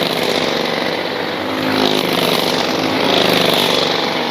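Racing karts at the Tri City Kart Klub Saturday night shoot-out whine around the track, a loud, continuous buzzing engine drone that rises and falls slightly as the karts pass close by.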